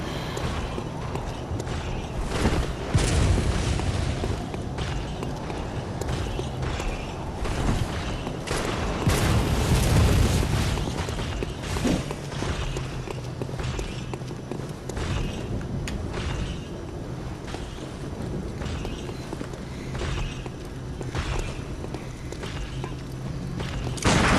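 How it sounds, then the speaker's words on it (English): An enemy in the video game Bloodborne fires repeated shots at the player, with booming gunfire bursts over dense, continuous game sound and no talking. "And I am dodging these shots."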